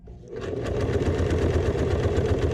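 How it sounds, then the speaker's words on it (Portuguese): Sewing machine stitching thin bias binding onto a small fabric shoulder bag, starting up after a brief pause and then running in a steady, close, loud rapid needle rhythm. "E vou costurar."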